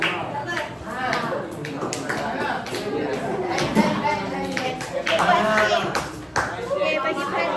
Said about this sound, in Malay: terima kasih untuk kumpulan 2 bagi tepukan